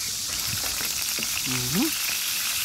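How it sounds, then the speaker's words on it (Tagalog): Fish drops into hot cooking oil and fries with a dense, steady sizzle throughout. A voice talks briefly over the crackle. "at lalagay na po natin yung isda. Init na po yung ating mantika."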